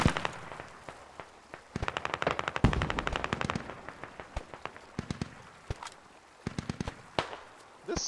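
Machine gun fire in the Squad video game on an Afghanistan map, with rapid bursts of sharp automatic shots in quick rhythmic strings, some near and loud, others farther off, repeating throughout with occasional single shots between.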